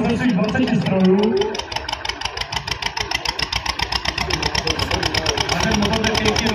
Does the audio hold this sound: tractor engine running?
yes